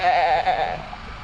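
A goat on a homestead gives a single short bleat in the morning, close, clear and wavering, fading out quickly.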